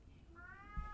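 A male cat meows once, a short rising mew near the microphone, over a quiet room background.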